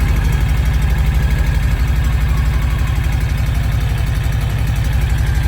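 An engine on a Kawasaki Mule 2510 utility vehicle idles steadily up close, a low rhythmic chugging with a slightly uneven, knocking pulse from a misfiring cylinder that holds constant throughout.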